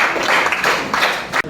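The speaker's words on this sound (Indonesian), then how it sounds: "Beri tepuk tangan." A classroom of students gives a short burst of dense hand clapping that lasts under two seconds and cuts off abruptly.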